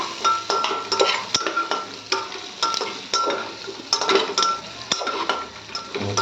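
A spoon stirs dried chilli, cumin and coriander powders in a frying pan for Bengali-style dalia, a quick run of metallic scrapes and clinks over a low sizzle, close and rhythmic.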